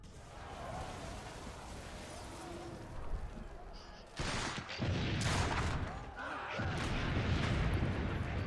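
Cannon fire in the video game Assassin's Creed Brotherhood, heavy booming blasts with rumbling low-end, separate shots landing over a continuous battle din, loud and close.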